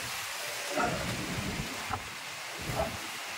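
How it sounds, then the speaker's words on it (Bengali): Light rain falls steadily outdoors as a soft, even hiss, with a few slightly louder gusts or drips breaking through now and then. "সঙ্গে হালকা হালকা বৃষ্টি পড়ছে।"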